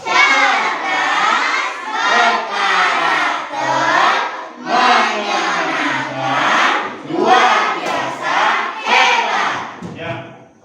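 Classroom of schoolchildren loudly shouting a rhythmic group greeting chant in unison, several energetic call-and-response phrases close by with brief pauses between them.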